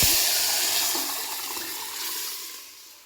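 Rasam made with moong dal poured into hot oil tempering with curry leaves: a rushing liquid pour and bubbling hiss up close that fades gradually over about three seconds.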